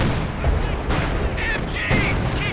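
Tank cannon fire booms in a Company of Heroes 2 battle, with an H-35 and a T-34 shelling infantry. Several loud, heavy blasts land in quick succession over a rumbling battlefield din.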